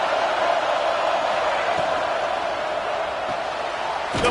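A roaring stadium crowd at a college football game in a video game, a steady wash of cheering noise that stays loud and constant, with faint commentary beneath it.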